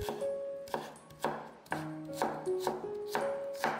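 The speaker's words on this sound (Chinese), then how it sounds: "再来一块生姜切片， 然后切成姜丝" A knife chops fresh ginger into thin strips on a cutting board for dumpling filling, a close, steady run of sharp knocks in uneven groups, with faint tonal ringing between the cuts.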